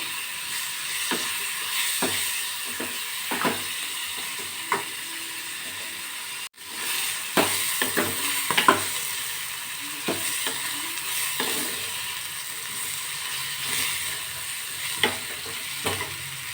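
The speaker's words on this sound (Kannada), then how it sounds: "ಸ್ವಲ್ಪ ಎಣ್ಣೆ ಹಾಕ್ಬಿಟ್ಟು ಚೆನ್ನಾಗಿ ರೀತಿ ಹುರ್ಕೋಬೇಕು ಟೊಮೆಟೊ ಮತ್ತು ಹಸಿಮೆಣಸಿನ್ಕಾಯಿನ" Tomato and green chilli fry in oil while being stirred, a continuous close sizzle punctuated by repeated scraping and tapping of the spoon against the pan.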